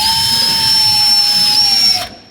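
A power drill boring holes for clip-on handlebars on a 2018 BMW S1000RR sportbike, a steady high-pitched whine held loud and close for about two seconds before winding down.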